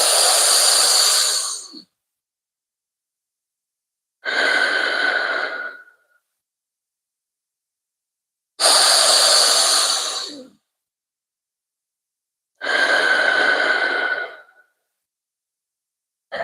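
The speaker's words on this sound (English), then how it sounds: "we would always do a breathing technique for our diaphragm" Four slow, loud, breathy rushes of air alternate as inhales and exhales during a belly-focused diaphragm breathing exercise, each lasting about two seconds and separated by silent pauses.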